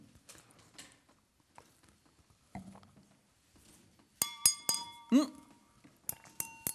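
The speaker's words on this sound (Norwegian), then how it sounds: "Det betyr at hvis du heller opp i vann i glass, så blir det annerledes lyd" Drinking glasses holding different amounts of water are tapped, giving several bright ringing clinks with sustained tones in quick succession, after a quieter stretch of soft handling noises and faint talk.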